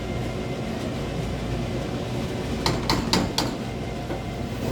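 A lid set onto a pot of Sri Lankan blue crab curry gives a quick cluster of light metallic clinks and taps, close and brief, over a steady kitchen hum.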